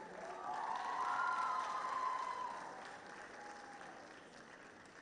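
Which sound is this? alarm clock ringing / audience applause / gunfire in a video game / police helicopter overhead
audience applause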